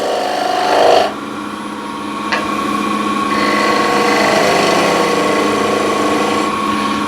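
A spindle gouge cuts into wood spinning on a lathe, giving a steady close scraping rasp over the lathe's hum, with a brief sharper catch early on.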